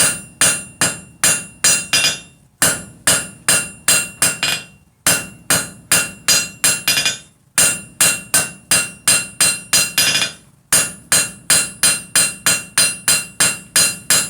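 Hammer blows on 3/8 inch square steel bar drawing out a taper, sharp ringing strikes in quick bursts of about eight to ten with short pauses between, loud and close with no voices.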